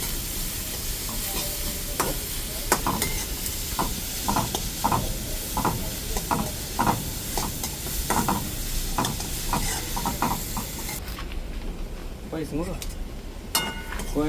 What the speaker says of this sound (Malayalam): നമ്മളെ ഉള്ളി ഇതാ ഈ രീതിക്ക് നല്ലോണം വാട്ടി വന്നിട്ട് ഏകദേശം ഒന്ന് ജസ്റ്റ് ഒരു ബ്രൗണിഷ് കളറായി